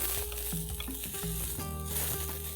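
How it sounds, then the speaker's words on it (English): Two sliced medium onions sauté with ginger and garlic in a hot pan, giving a steady, close sizzle and crackle that runs throughout without pause or talk. "We're going to add 2 onions sliced, medium-sized onions. And we're going to saute this till the onion are nice"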